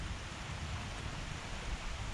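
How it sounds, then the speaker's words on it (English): Rain falls steadily on a farm, making an even, unbroken hiss with no distinct drops or other sounds standing out. "It's starting to rain pretty good now,"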